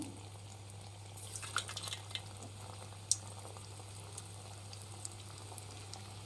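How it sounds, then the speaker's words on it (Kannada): Dry-fruit-stuffed gulab jamun dropped one by one into hot oil over a medium flame, giving a soft, steady bubbling fry with scattered faint pops and small splashes, one sharper crackle standing out, all fairly quiet and close. "ಎಣ್ಣೆ ಕಾಯಕ್ಕಿಟ್ಟಿದೆ ಕಾಯ್ದಿದೆ ಒಂದೊಂದೇ ನಿಧಾನಕ್ಕೆ ಹಾಕ್ಕೊಳ್ಳಿ ಮೀಡಿಯಮ್ ಫ್ಲೇಮಲ್ಲಿ ಇಟ್ಕೊಳ್ಳಿ"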